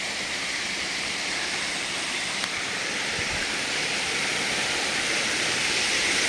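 Shnurok waterfall in the mountains near Gelendzhik, by Aderbievka, runs full in spring, a steady, dense roar of rushing water that stays constant throughout, close and loud.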